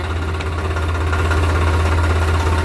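Tractor engine idling close by, a loud, even low-pitched chug that never lets up.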